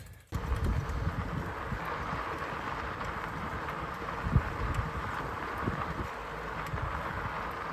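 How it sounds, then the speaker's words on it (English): Wild horses' hooves clip-clop steadily over gusty wind noise on Cumberland Island, Georgia, with horses moving nearby and a few heavier thuds standing out. "I got some wild horses up here."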